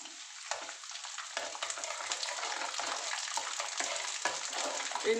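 Home-dried coconut, cut into thin slivers, fries in a pan for homemade chanachur with a loud, continuous sizzle broken by the scrape of stirring.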